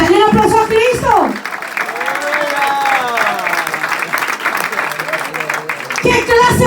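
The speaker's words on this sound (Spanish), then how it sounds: "denle un aplauso a Cristo" A church congregation breaks into loud applause and cheering that carries on for several seconds, with voices heard at the start and end.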